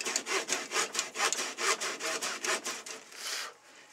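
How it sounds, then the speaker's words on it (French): A Japanese pull saw cuts through wood in quick, even strokes, a rhythmic rasping close by that slows and softens toward the end. "quand on sent qu'il n'y a plus de trait sur le dessus, ici, ben on redescend à nouveau et on fait une trace dans le bois."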